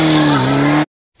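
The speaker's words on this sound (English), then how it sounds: "Motorcycle." A motorcycle roaring past with a loud, steady, high engine whine that cuts off abruptly, leaving silence before a faint trailing rumble.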